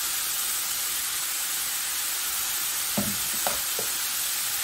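Garlic and onion frying in a pan, a loud steady hiss of sizzling oil with a few soft spatula knocks and scrapes toward the end.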